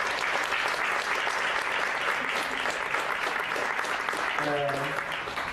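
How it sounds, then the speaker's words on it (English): An audience claps for a panel at a business talk, a sustained, even round of applause with a voice briefly audible underneath near the end. "first a big hand of applause to the whole panel here"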